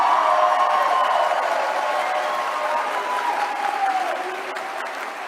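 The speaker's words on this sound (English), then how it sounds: "you can clap for the president" A large CPAC audience in Orlando applauds, a dense roar of clapping and cheering with a few whoops that slowly fades toward the end.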